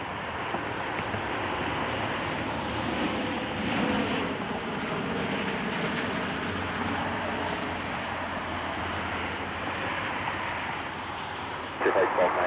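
A Frontier Airbus flying near Lakefront produces a broad, sustained jet roar at moderate distance that swells and fades slightly, with some wind noise on the microphone.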